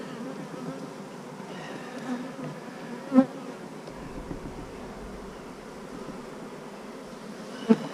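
Honeybees buzz around frames pulled from a hive, a dense, steady, close drone that carries through the whole stretch, with a couple of brief knocks and no talking.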